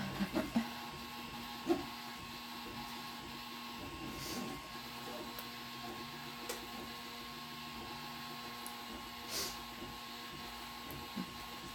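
A Prusa MK2S 3D printer running a print, a faint steady whine of stepper motors with small clicks and bumps, quiet and close, with some voices in the background.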